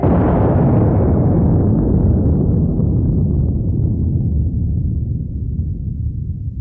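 A loud bomb blast fills the recording with a heavy, broadband roar that slowly decays and rumbles out over several seconds, with no voices over it.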